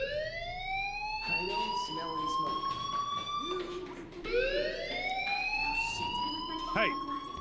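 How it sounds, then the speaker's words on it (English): A fire alarm sounding in the Life Is Strange game, a loud rising-and-falling electronic wail that repeats over several seconds, with a short voice and other game noises underneath. "do you hear that fire alarm?"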